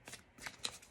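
Tarot cards shuffled by hand in a short riffling burst of crisp papery flutters, close and fairly quiet, with no talk over it.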